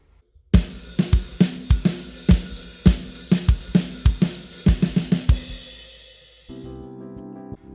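A full drum kit plays a fast two-bar groove with sharp, evenly spaced kick, snare and cymbal hits ringing close and loud, then a lingering cymbal wash near the end.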